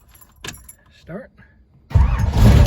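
Keys jangle and a starter clicks in a pro touring 1967 Ford Mustang Fastback, then the engine catches and fires into a loud, rumbling idle close up.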